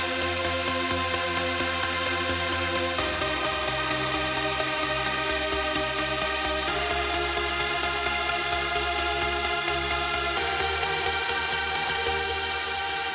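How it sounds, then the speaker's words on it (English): A thick detuned saw synth chord layer holds dense, buzzy sustained chords that change a few times, loud and continuous with no talking. "So I got here this detuned saw layer,"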